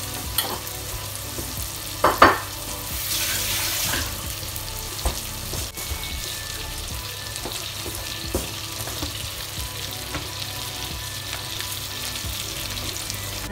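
Potato rosti fries in butter in a pan with a continuous close sizzle, broken by occasional clinks and scraping stirs of a utensil, and no voices.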